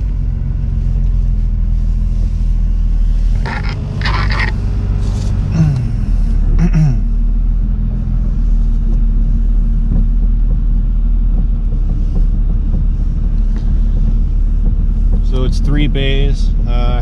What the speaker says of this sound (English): Let's see if I can drive around for you guys a minute.